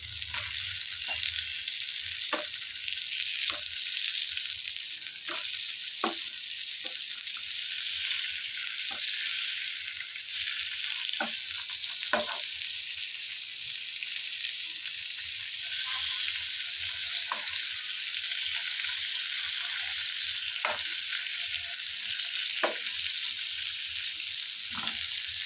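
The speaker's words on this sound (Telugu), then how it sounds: "ఇలా చేప ముక్కలు పెట్టుకుని ఫ్రై చేసుకోవాలి" Fish pieces frying in a pan of oil, a steady loud sizzle and hiss running throughout with scattered small pops and crackles, close up and without talk.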